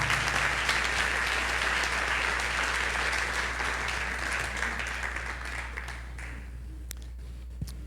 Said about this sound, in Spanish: Dale un aplauso al Señor por la palabra.